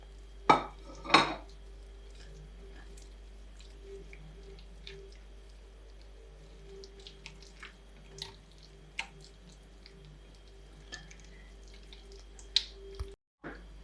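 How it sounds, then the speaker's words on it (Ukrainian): A spoon stirs chicken filling for a chicken and egg pie in a dish, with two sharp clinks of utensil against the bowl at the start, then quieter scattered scrapes and taps over a steady low kitchen hum. "Так, все перемішуємо."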